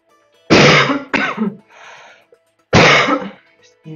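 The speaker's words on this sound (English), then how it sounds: "I'm still coughing up a storm" A person coughs in two harsh bursts, then a short pause, then a third loud cough, close and dry with a rough, raspy throat.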